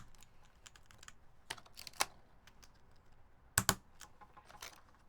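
New HHKB keycaps are pressed onto a keyboard, producing quiet scattered clicks and a few sharper snaps as each cap seats, close up in a hushed room.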